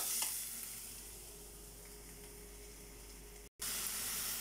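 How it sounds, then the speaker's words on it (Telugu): Eggplant and capsicum pieces fry in a pan for a vegetable masala curry, giving a faint, steady sizzle and hiss that cuts out briefly near the end before resuming. "ఇప్పుడు ఇందులో వంకాయ ముక్కలు, క్యాప్సికమ్ ముక్కలు వేసుకోవాలండి."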